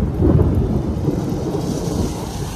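Thunder rumbles low and heavy through an outdoor rainstorm, a deep sustained roll that swells early and then lingers under the steady hiss of falling rain, with no one speaking.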